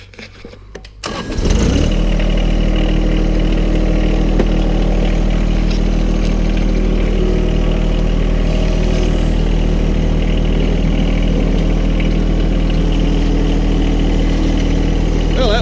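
After a brief clatter, a diesel tractor engine turns over and settles into a loud, steady idle that chugs on continuously, close and unbroken.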